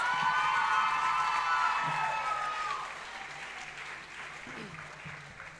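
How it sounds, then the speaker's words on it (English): A crowd at a student-athlete awards event applauds the volleyball and lacrosse champions, clapping mixed with cheering and whoops that swell at first and then fade away, with some shouting voices. "a round of applause for the 2018 CSAC Volleyball and 2019 Lacrosse champions, your Notre Dame Gators."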